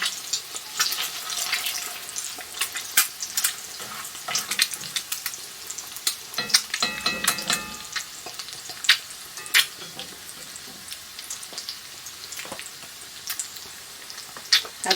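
Eggs fry in a pan with a loud, close, crackling sizzle and frequent sharp pops, joined by occasional spatula scrapes.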